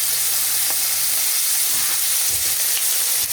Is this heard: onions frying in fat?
yes